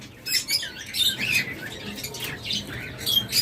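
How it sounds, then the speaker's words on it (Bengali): Caged pet birds offered for sale chirp and tweet in quick, bright, overlapping bursts, close by, with occasional wing flutters and no talk. "এরপর এখানে রয়েছে আর একটা চমৎকার হাই পাখি"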